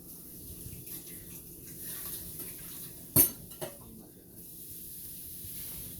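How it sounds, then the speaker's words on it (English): Teaspoon rinsed under running water, a faint hiss of the tap with a sharp metallic clink of the spoon midway and a second smaller knock, close in a quiet kitchen. "Let's rinse that teaspoon."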